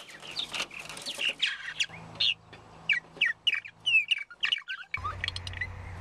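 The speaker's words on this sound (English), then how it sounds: "Adult males can also be identified by the clicking sound that only males make." Rapid clicking calls and chirps of male purple martins come in quick bursts, busy and fairly close, with brief pauses and a low rumble near the end.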